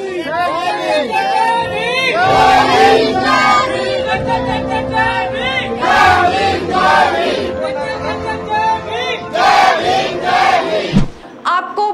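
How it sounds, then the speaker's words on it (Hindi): A large crowd at an Ambedkar Jayanti rally in Prem Nagar chants Jai Bhim slogans, many voices shouting together loudly in rising and falling waves, with a sudden brief drop near the end. "जय भीम के नारों से पूरा माहौल ही बदल डाला"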